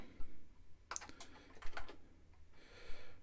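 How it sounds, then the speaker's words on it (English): Close computer keyboard typing in short bursts of quiet clicks, with a few sharper taps and pauses between them, alone without talk. "I forgot how to use the keyboard now"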